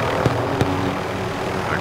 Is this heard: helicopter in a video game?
yes